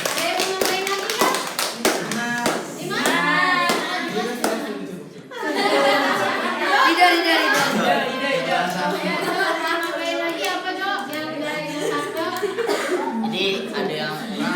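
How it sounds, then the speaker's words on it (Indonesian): Applause in a classroom during a teaching practice lesson: a burst of many hands clapping at once, fairly loud and steady, with quick taps at the start and some laughter and children's voices mixed in. "Oke, tepuk tangan dong."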